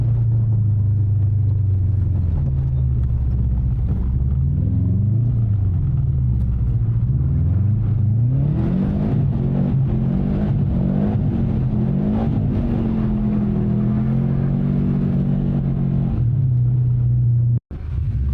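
A Subaru WRX STI drives on a snowy winter track, its engine droning loudly from inside the car and rising and falling in pitch as the driver eases off and accelerates, with no talk.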